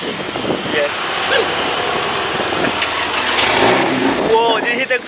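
A Range Rover Velar engine revs loudly through its exhaust, rising and roaring with pops, while excited voices talk and shout over it.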